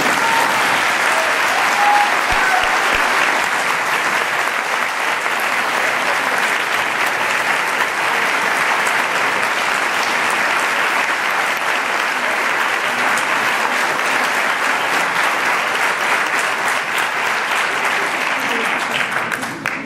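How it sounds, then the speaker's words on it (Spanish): Loud, sustained applause from a large church audience at a pastoral gathering fills the whole stretch without a break, dense and even, easing off slightly only at the very end. "¿queréis que lo acojamos con un aplauso bien fuerte así?"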